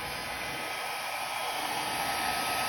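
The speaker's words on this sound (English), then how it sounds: "So I'm gonna grab my blow dryer and on the low cool setting" A blow dryer on its low cool setting blows across a fluid-art pearl pour painting, giving a steady, close, continuous airy whir with no talking.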